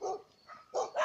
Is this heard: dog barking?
yes